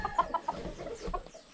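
Young stags, gamecocks being readied for fighting, give a few short soft clucks close by, a quick series in the first half-second, then a single cluck after a pause, with low farmyard rumble behind.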